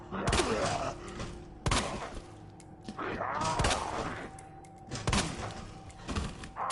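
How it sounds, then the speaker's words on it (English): Handgun shots fired at zombies in the game Resident Evil 2 Remake, four loud separate blasts spaced about one to two seconds apart, each with a thudding echo, close over low game ambience. "I'm shooting him in the head left and right"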